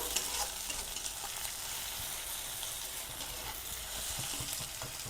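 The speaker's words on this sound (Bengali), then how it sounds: "দারচিনি এরকম দুটো টুকরো এলাচ তিনটে লবঙ্গ দুটো আর এরকম ছোটো সাইজের দুটো তেজপাতা দিয়ে আবারও একটু এটাকে নেড়ে নেবো" Cinnamon sticks, cardamom, cloves and bay leaves fry and are stirred in hot oil in a pan, giving a loud, continuous crackling sizzle with scraping strokes over several seconds.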